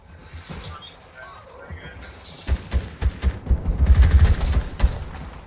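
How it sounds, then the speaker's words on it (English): Gunfire in the Fortnite video game, a run of sharp repeated shots and thuds growing louder and denser midway through, mixed with game noise and people talking over it. "I love that we there's someone shooting at us right here."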